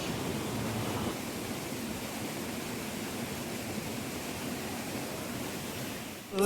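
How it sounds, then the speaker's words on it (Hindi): Gajpalla waterfall in Gariyaband pours down in a steady, dense roar of rushing water that stays even and unbroken throughout, with no voices over it. "तब तक तुमने वाटरफॉल के मजा लेवा देखो कितना खूबसूरत है वाटरफॉल है"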